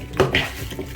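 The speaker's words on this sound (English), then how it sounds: "I'm going to mix this and ensure all the pieces are well coated." Chicken pieces tossed with salt in a metal pot, a short scrape and clink of a utensil against the pot, then a softer stir, close and brief.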